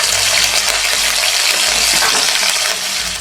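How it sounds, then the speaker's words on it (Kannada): Curry leaves fry in hot oil for a bean and lentil bassaru, a loud, continuous crackling sizzle close by with light stirring and no voices. "ಕರ್ಬೇವಿನ ಸೊಪ್ಪು ಚೆನ್ನಾಗಿ ಫ್ರೈ ಆಗ್ತಿದೆ"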